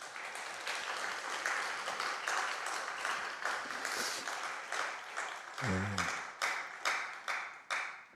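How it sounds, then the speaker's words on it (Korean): A church congregation at a members' retreat bursts into steady, dense applause, many hands clapping together for several seconds before the sound thins into scattered, separate claps toward the end. "우리 감사의 박수 한번 하겠습니다."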